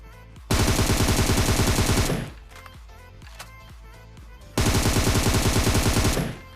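Automatic gunfire in the PUBG video game: two long, loud sustained bursts separated by a quieter stretch of scattered single shots and clatter.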